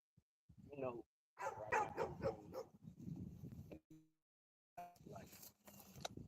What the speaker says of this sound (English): You started barking now.